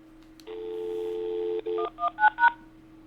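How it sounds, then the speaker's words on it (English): A home Asterisk phone system plays DTMF dialing tones: a long steady tone after a short dial tone, then a quick run of three short beeps, loud and close with no talking. "Let me dial again."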